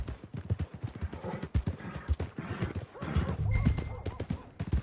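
Horse hooves clip-clop at a stable in the Red Dead Redemption 2 video game, steady rhythmic steps close by, running under people talking throughout.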